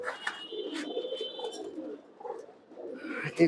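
Domestic pigeons cooing in a loft of paired males and females, a steady layered murmur of low coos from several birds close by, with a few brief higher chirps over the top.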